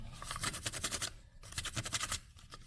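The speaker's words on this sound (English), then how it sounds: "taking the plastic Easter egg and using your little piece of sandpaper" Sandpaper scrubs over a plastic Easter egg in quick back-and-forth strokes, a dry rhythmic scratching heard up close and fairly quiet, with a short pause partway through before the rubbing resumes.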